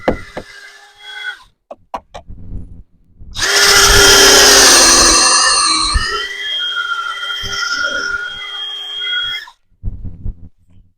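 A power drill bores holes for trellis carriage bolts, with short motor revs and clicks, then a loud sustained whine of several seconds whose pitch drops as the bit works through, followed by brief trailing taps.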